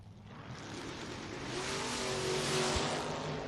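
Drag racing cars at US 13 Dragway, a Monte Carlo among them, roar down the strip, a steady engine rumble swelling in loudness toward the end with a thin whine and a brief low thump near the finish.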